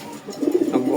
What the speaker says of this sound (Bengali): এই জায়গায় আছে একজোড়া গোল্লা কবুতর